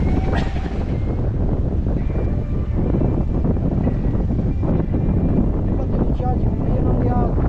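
A sailboat moving at about 4.5 knots in 12 knots of wind, with steady wind buffeting and rushing water along the hull, loud and close throughout.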